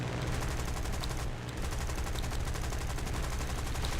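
Rapid, continuous machine-gun fire from enemy planes chatters in War Thunder British air combat, a dense rattling stream over a heavy aircraft engine drone, with a brief gap near the middle.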